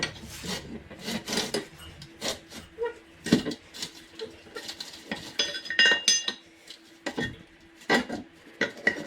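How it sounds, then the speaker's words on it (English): Steel tire tools pry a tire bead off a car wheel rim by hand, with a screwdriver jammed in to hold the bead. Irregular close metallic clanks, scrapes and rubbing knocks come in uneven bursts. "put one of my tire tools in the hole and then just pry my way around"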